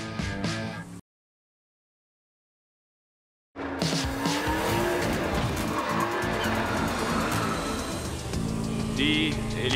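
Cartoon Hot Wheels cars race with engines revving and tires squealing in long skids, loud and busy, after a short burst of music and a few seconds of silence.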